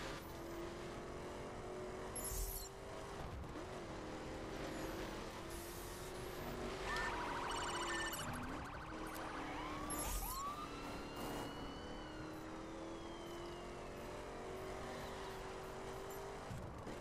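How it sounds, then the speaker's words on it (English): A police car siren in The Crew racing video game wails at moderate volume over steady engine and road noise, with rising and falling tones sweeping through the middle of the passage. "Ooh, that's a police car."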